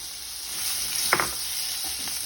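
Mango pieces dropping into hot oil already crackling with asafoetida, fennel, mustard seeds and cumin for a sweet-sour mango pickle, giving a steady loud sizzle with a brief burst of splatter.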